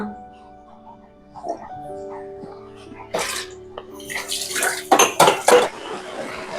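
Dishes and utensils clatter and clink in several bursts, with splashing water, as a scrubbing session picks up pace; faint talk sits underneath.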